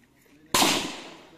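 A single loud firecracker goes off at a firing range, a sharp bang after quiet background, its noisy burst slowly fading over the following second.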